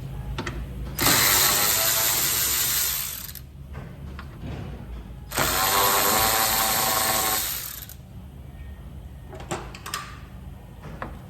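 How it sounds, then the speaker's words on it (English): A ratchet takes out 10 mm bolts holding the fan shroud on a 2017–18 Toyota Tundra, with two rapid clicking bursts of a few seconds each and light tool clinks between them. "So 10 millimeter, we're going to remove the fan shroud and the fan first."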